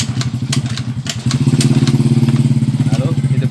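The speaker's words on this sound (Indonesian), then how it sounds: "kita coba hidupkan engkol dulu beberapa kali" A carbureted Honda Beat scooter engine is kicked over repeatedly, producing a loud, close, fast run of chugging thumps and mechanical clatter that settles into an even pulsing rhythm, with no talking.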